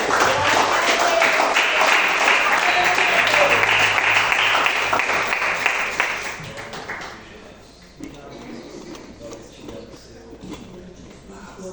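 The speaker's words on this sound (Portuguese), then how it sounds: "Agradeça as palmas ao Senhor." A church congregation at a praise and worship service claps loudly and steadily for several seconds, then the applause thins out and fades, leaving scattered claps and room noise.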